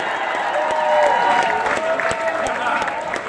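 Concert crowd applauding and cheering at a rock show in 2018, a steady, loud wash of clapping and shouts sustained throughout, with tonal hum from the stage mixed in.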